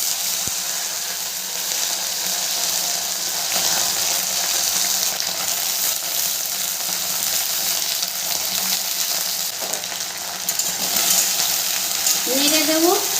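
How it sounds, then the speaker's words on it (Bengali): Cut okra (bhendi) hits hot mustard oil and fries with a loud, continuous sizzle, close up and steady throughout, with a brief scraping clink near the end. "তেলটা গরম হয়ে গেছে, এরপরে আমি দিয়ে দেবো কেটে রাখা ভেন্ডিগুলোকে"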